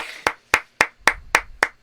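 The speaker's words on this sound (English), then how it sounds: "when there's 2 of us applauding, it So sounds sinister." Sparse hand claps from just two people land in a slow, even rhythm, six sharp, close claps with brief gaps between them.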